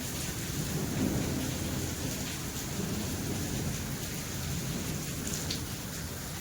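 Heavy rain pours down steadily in the middle of the night at about half past two in Himachal, with thunder rumbling low beneath the continuous roar of the downpour. No voices are heard.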